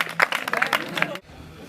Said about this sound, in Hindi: बहुत अच्छा आइडिया लाया और टीम सुपर के लिए तालियां।